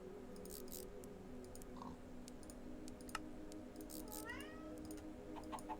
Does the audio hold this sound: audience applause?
no